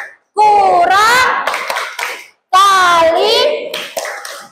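Children in a classroom doing the 'tepuk matematika' clapping game, their chanting voices loud and close, with hand claps mixed in under two long bursts of group chanting.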